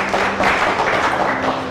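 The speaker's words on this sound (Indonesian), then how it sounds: "Tepuk tangan untuk Aditya" A live audience at a stage show claps for Aditya in a brief, moderately loud burst of applause, with a faint steady hum beneath.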